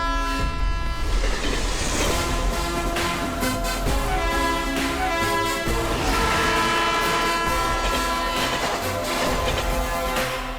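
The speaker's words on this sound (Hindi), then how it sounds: "लेकिन वहाँ से गुजरने वाली ट्रेन कभी हॉल्ट ही नहीं लेती।" A passenger train passes without stopping, loud and near, its horn sounding steady tones over rumbling, rattling wheels for several seconds in an action movie scene.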